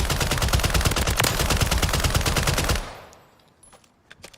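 An R.A.A.L light machine gun in Call of Duty: Modern Warfare 3 fires a loud, rapid, sustained automatic burst for nearly three seconds, then cuts off to quiet handling clicks.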